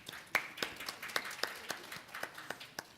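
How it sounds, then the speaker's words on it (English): Audience applause follows the introduction of a speaker at a panel event on domestic migration, a fairly faint, steady run of distinct claps heard from a distance with no talk over it. "Let's give him a round of applause."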